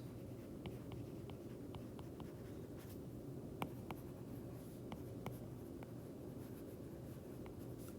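A pen writing on paper while working physics torque problems, a soft continuous scratch with small tapping strokes close up under a faint room hiss, no voices.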